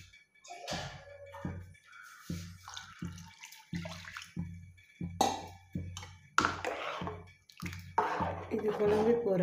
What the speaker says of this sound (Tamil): இப்போ குழம்புக்கு தேவையான அளவு தண்ணி ஆட் பண்ணிக்கலாம்.